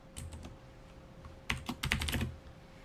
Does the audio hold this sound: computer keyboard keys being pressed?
yes